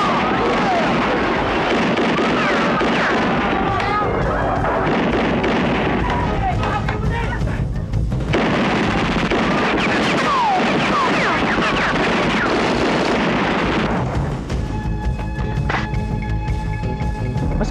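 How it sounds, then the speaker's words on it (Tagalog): Dense, continuous crackling bursts of firecrackers going off in rapid succession, loud and busy throughout, with people talking faintly underneath. "ang galing mong magpaputok"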